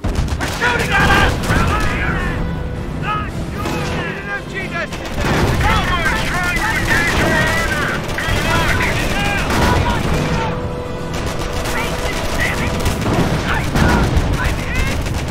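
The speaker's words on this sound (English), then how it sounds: "They're shooting at us!" Gunfire in Company of Heroes during the Normandy invasion at Montebourg, dense overlapping bursts of rifle and machine-gun fire with booming impacts, continuous and loud throughout, with shouted soldier voices mixed in.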